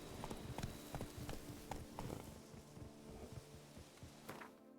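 Hooves of Roach, a horse in The Witcher 3 video game, clip-clopping at a steady gallop, with quick repeated thuds running throughout over faint game ambience.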